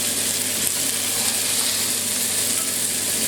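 Lamb pieces browning in a hot pan give off a steady, dense sizzle and fry, loud and close, continuous throughout with no voices.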